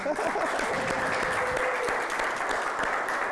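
Sustained audience applause for a singer, a dense, even wash of clapping with scattered cheers and a brief tonal voice near the start, moderately loud and steady throughout.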